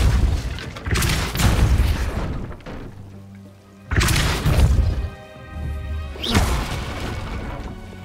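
Depulso spell impacts in Hogwarts Legacy, heavy booming crashes and thuds that come in three loud bursts, each one trailing off into rumbling debris, with no speech over them.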